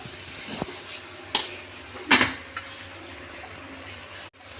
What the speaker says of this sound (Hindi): ये इसका तड़का तैयार हो रहा है।